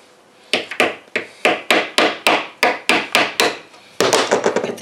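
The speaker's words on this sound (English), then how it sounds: "First, I'm going to break the paint off." Repeated sharp tool strikes breaking old paint off a cabinet hinge, about a dozen close, loud impacts in a fairly steady rhythm with a brief pause, then a quicker burst of chipping.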